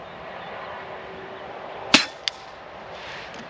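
A single sharp crack of a Vixen2 air rifle shot, about 296 metres per second, followed by a quicker, fainter click, against low steady background noise.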